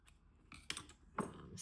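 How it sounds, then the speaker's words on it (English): Small scissors make a few quick, light snips as they trim stray fibres from a needle-felted wool panda. Three or four separate close cuts are heard in an otherwise quiet room. "You can come in with your scissors here too and just kind of lightly get some of those little"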